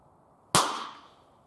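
A single sharp, loud pop as hydrogen-oxygen gas from a homemade generator is ignited, followed by a brief ringing decay into quiet.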